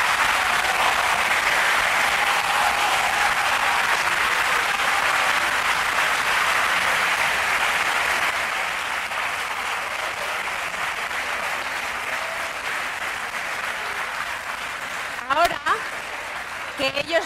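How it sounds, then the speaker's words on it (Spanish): Full, sustained audience applause at an academic panel, a dense clapping wash that holds loud for several seconds, then eases and continues more softly, with a few sharp noises near the end. "Otro aplauso."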